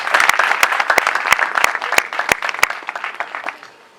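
A village congregation claps during a pastor's sermon, producing loud, sharp, uneven handclaps close by that trail off toward the end.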